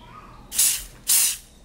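Two short, loud bursts of spray from a nail glue dryer aerosol, each a bright hiss lasting about a third of a second, close up with no talking.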